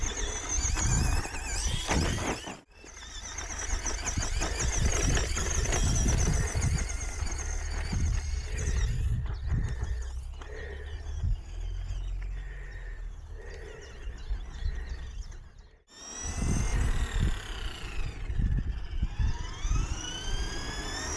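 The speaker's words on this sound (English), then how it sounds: "driving my Tamiya Lunchbox around back and forth like a complete idiot" A Tamiya Lunchbox RC car driving back and forth on asphalt, its small electric motor whining and rising and falling in pitch as it speeds up, passes and slows, with tyre noise and a brief pause midway.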